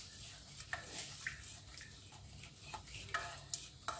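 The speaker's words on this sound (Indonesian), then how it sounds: "lalu diaduk kembali." Cassava cake batter stirred after full-cream liquid milk is poured in, giving soft, quiet scraping and sloshing strokes in a steady rhythm, close and faint.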